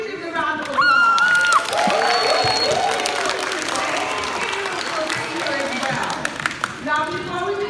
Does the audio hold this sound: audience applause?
yes